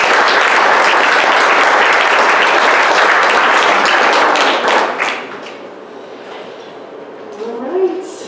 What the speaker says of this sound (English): another round of applause for all of you guys